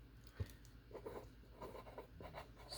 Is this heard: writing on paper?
yes